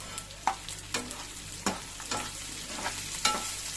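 Okra frying in oil with turmeric in a pan, a quiet hiss under repeated sharp scraping strokes of a spoon stirring at a steady rhythm, close up with no talking.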